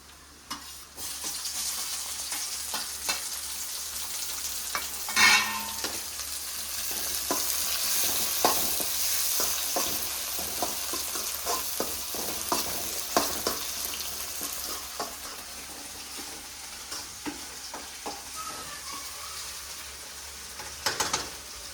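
Chopped tomato sizzling and frying in a pan while being stirred for churumuri, a steady close crackle with scraping spatula strokes and a sharp hiss as the tomato hits the hot oil, continuing throughout without speech.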